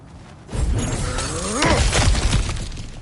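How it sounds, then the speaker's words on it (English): Objects smashing and shattering in God of War Ragnarok, a sudden loud crash of breaking debris followed by rumbling, clattering fragments that carry on for a few seconds. "back to smashing through things for fun and profit"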